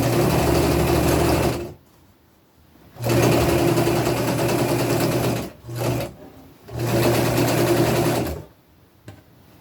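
Sewing machine running a straight stitch on knit fabric for an upcycled princess dress, loud and close in three steady bursts of whirring, with brief silent pauses between runs as it stops and starts again.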